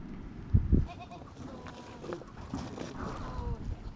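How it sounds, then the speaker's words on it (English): Goats penned for morning milking at a home, with a couple of short bleats early on, then soft shuffling, low bleating and farmyard movement close by. "The day at Wo Sir Dawa's home begins with milking the goats."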